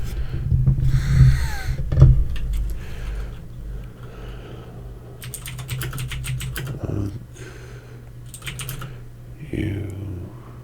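Computer keyboard typing during online character creation for a tabletop RPG, with bursts of key clicks mixed with a low steady hum and some background noises, moderately close.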